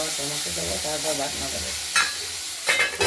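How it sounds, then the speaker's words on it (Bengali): Tomatoes sizzle in a hot pan with potatoes and beans as they are stirred, a steady loud frying hiss broken by scraping stir strokes and two brief louder bursts near the end. "একবার একটু নেড়ে চেড়ে দেওয়া হলো"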